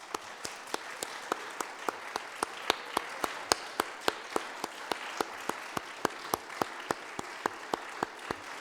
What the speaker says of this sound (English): Let's all give them one more big round of applause.